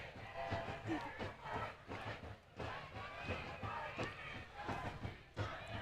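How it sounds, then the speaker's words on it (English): The stadium crowd at a USL W League women's soccer match between Detroit City FC and Kalamazoo FC sends up a rhythmic rumble of cheering and chanting that is distant and fairly faint. "The crowd trying to get their team back in it."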